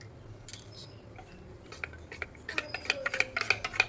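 A spoon stirs sattu in a steel bowl or glass for breakfast, quick clinking scrapes that grow faster and louder toward the end, close and alone.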